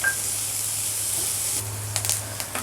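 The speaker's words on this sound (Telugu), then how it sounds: "ఇందులోకి మనం క్యాప్సికమ్ యాడ్ చేయాలి. యాడ్ చేసి బాగా ఫ్రై చేసుకోవాలి" Capsicum frying in oil in a pan for egg gunthaponganalu, a steady high sizzle with a low hum beneath, joined near the end by a few soft clinks and stirs.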